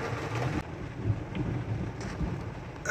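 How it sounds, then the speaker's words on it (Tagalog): Low thunder rumbles outside under a steady wash of heavy rain, faint and distant, with no voices. "Ayan na guys, kumukulog na sa labas."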